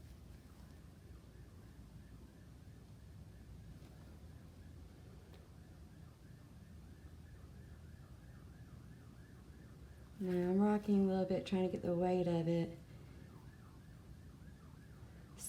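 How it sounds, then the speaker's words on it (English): A wailing emergency vehicle siren sweeps in outside for a couple of seconds, loud over a steady background hum while a person talks quietly nearby. "Sorry about the sirens"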